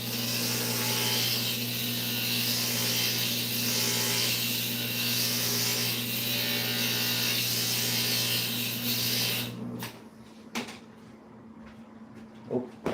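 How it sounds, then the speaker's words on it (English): An electric glass grinder whirs steadily against small bits of stained glass, giving a loud, even buzz with a constant hum for about ten seconds before cutting off into quiet handling knocks. "we'll grind this little bits off"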